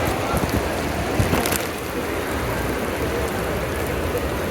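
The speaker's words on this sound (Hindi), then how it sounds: "अभी भी जो है वो बहुत तेज़ बारिश हो रही है।" Heavy rain pours in Madina, a dense, steady hiss of drops hitting the ground and surfaces, loud and continuous with slight gusts of wind.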